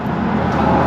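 A truck engine cranks without catching because it is out of fuel, a steady loud mechanical whirring drone close by with no firing.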